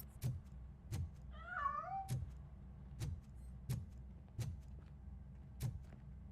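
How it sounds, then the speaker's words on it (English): A cat meows once with a rising-falling cry in RoboCop: Rogue City, set against sharp, evenly spaced knocks or ticks that repeat throughout, fairly faint overall. "That cat must be hiding inside."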